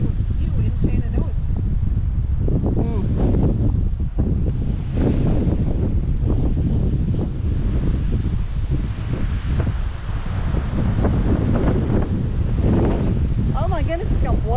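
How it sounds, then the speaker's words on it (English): Strong wind at a mountain viewpoint in Shenandoah National Park buffets the microphone in a constant loud roar, with a hiker's voice heard through the gusts. "Oh, it's windy."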